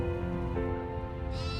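Sheep and goats of a Mongolian nomad herd bleat close by, several overlapping calls in steady succession with a new cry rising near the end.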